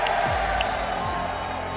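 A crowd cheers and whoops steadily at an esports event, the Call of Duty Kickoff Classic 2022, a dense continuous roar of voices filling the space, with a caster's voice partly audible over it.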